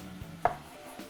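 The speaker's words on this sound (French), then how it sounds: "on va couper vraiment comme en tranches, vraiment minces, une petite lanière" A knife chops celery and cucumber into very thin slices, giving a few soft, close cutting knocks on a board with one sharper stroke in the middle, fairly quiet and with no one talking.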